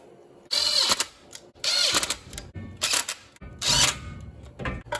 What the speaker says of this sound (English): Notice I am just using a socket to snug these bolts up.